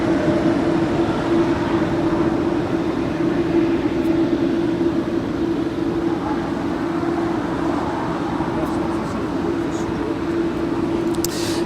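An Alaska Airlines Boeing 737 MAX 9 departs LAX on a flight to Newark, heard as a steady, loud jet roar with a sustained drone that holds evenly throughout, without speech.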